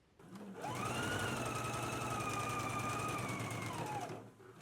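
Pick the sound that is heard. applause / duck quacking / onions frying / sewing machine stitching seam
sewing machine stitching seam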